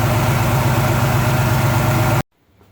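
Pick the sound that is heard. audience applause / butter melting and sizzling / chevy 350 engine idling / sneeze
chevy 350 engine idling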